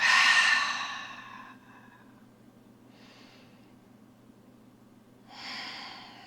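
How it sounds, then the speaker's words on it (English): Full, deep yoga breaths close to the mic: a long audible exhale, a soft quiet inhale, then another strong breath out, with no talking. "Focusing on full breaths in, into the back, and full breaths out."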